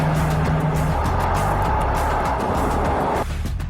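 Rolls-Royce Phantom, a 2.5-ton luxury car with a V12 engine, driving past with a loud, steady low rumble and road noise that drops off abruptly near the end, no talk.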